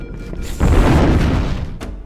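A huge ship explosion aboard the Pillar of Autumn in the video game Halo, a single deep booming blast that hits hard and then rumbles on, loud and close, with no talk over it.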